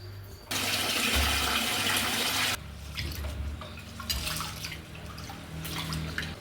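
Water gushes loudly for about two seconds as rice for a vegetable biryani is rinsed, followed by quieter sloshing and splashing in the vessel.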